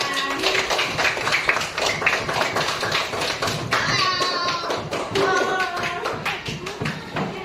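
A class of schoolchildren claps their hands in a quick patterned rhythm, sharp close taps repeating steadily with some young voices mixed in.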